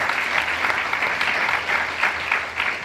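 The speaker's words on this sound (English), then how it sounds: "A round of applause for Dr. Abu-Salha, Shadi, Zainab, and Doha." An audience at a discussion panel applauds steadily for the panelists, a dense, even wash of clapping heard alone at moderate distance.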